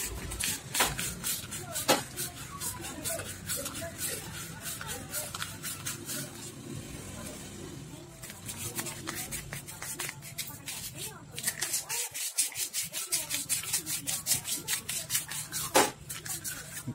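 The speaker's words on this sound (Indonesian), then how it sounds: "Sudah kita coba amplas pakai amplas yang halus," Fine sandpaper rubbed back and forth over a surface while repairing a camera shutter fault, rapid rhythmic scratchy strokes, close and steady with a brief pause, under occasional talk.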